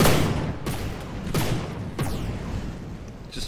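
Missiles launch in the naval combat game From the Depths as a dense barrage of booming, crackling blasts, with sharp bursts near 0.6, 1.3 and 2 seconds over continuous rumbling fire, loud and close.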